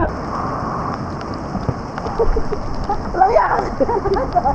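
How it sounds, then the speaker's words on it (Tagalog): Heavy rain pours down around an outdoor pool in Botolan, Zambales, making a steady, dense hiss throughout, with people talking over it. "Sobrang lakas ang ulan"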